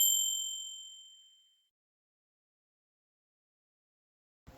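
A bright notification-style ding rings out at the start, a single clean metallic chime that decays over about a second and a half, followed by silence and a short faint rustle at the very end.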